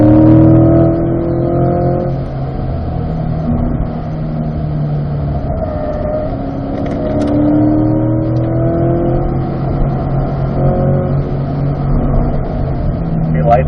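On a race track at Spring Mountain, a car's engine sustains a steady drone and then rises as it accelerates, loud and continuous throughout, with an instructor's voice coaching over it.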